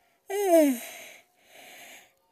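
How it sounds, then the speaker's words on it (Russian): A person's drawn-out yawn, a voiced falling groan with breathy hiss that trails into softer exhaled breaths, close and alone with no talk. "Извините, я зеваю."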